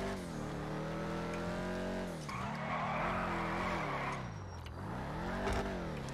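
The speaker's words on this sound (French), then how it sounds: "Vous pouvez voir que même pour drifter, c'est plutôt cool." A Dominator GTX muscle car drifts in GTA 5, its tires skidding in long wavering squeals over a steady engine drone, close and continuous with no talk.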